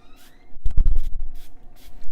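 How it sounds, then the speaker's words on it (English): A few quick hissing bursts of cooking oil spray, up close, followed by light scratchy handling noises. "That's 20 sprays of this parquet spray."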